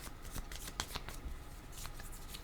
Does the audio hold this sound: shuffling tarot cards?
yes